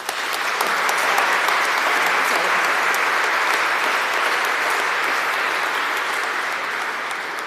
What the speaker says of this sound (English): Please join me in thanking them with another round of applause.